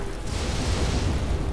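Explosions from enemies being blown up in the video game Nekro, a dense, loud, roaring blast that fills the whole short moment with no voices over it.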